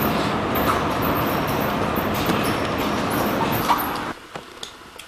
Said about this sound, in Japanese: この緑色のね、メトリーの、ね、電車に乗っています。